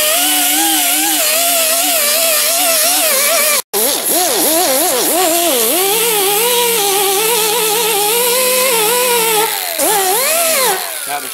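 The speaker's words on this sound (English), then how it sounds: "when you're grinding with that Rolox, you'll get what they call slag running over" A 50 grit Roloc disc grinds a cold weld on a bumper, giving a loud, continuous high-pitched whine that rises and falls in pitch with load, broken by one abrupt cutout before resuming steadily.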